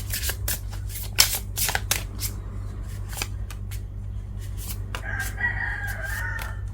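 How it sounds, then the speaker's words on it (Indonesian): A rooster crows at night, a drawn-out call rising over a steady low hum and scattered sharp clicks and rustles close by. "ayam berbunyi malam hari."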